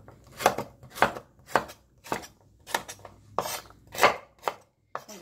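A knife chops chili peppers on a cutting board in a home kitchen while pork stir-fry is prepared, giving about ten crisp, evenly spaced strokes, close and clear, with no talking.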